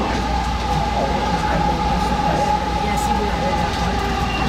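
The JFK Airport AirTrain people mover runs steadily with a constant rumble and a faint mechanical hum, loud and continuous throughout.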